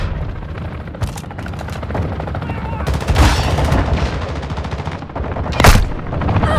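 Rapid automatic gunfire in the combat game Call of Duty: Modern Warfare II, with loud close bursts and heavy booming volleys running continuously, plus faint voice chatter in between.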